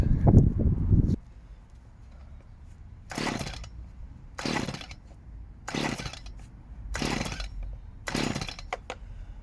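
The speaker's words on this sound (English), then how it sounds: "let's see what happens, get the chainsaw warmed up" A chainsaw engine warming up sputters in five short, raspy bursts separated by quiet gaps, after a louder rumble at the start, at an allotment.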